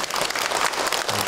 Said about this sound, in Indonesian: Tepuk tangan buat yang bertanya.